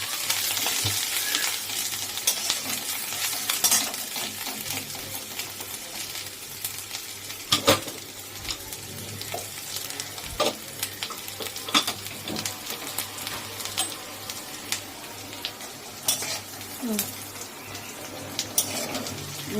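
Food fries in a pan with salt and asafoetida while a utensil stirs it, giving a soft continuous sizzle broken by scattered scraping clicks and knocks, fairly quiet and with no talk.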